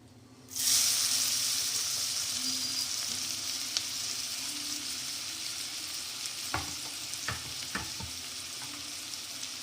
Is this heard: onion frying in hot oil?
yes